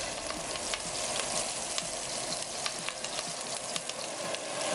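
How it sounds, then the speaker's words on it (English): Onion frying in a pan for lamb curry, a continuous crackling sizzle with small pops, close and moderately loud, heard alone with no talking. "So you chuck in the onion."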